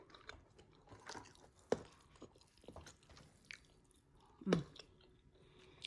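Quiet, close-up chewing of a mouthful of steamed rice with Chinese sausage, with soft irregular squishes and a couple of louder crunchy bites.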